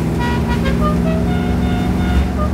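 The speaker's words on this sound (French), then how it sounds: "Et le son du V8" A steady, loud engine drone with a low throbbing rumble holds throughout, a 1969 Dodge Charger V8 under throttle.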